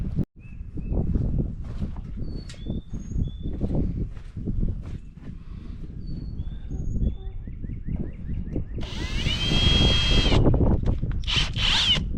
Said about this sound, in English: I will get the rest of them drilled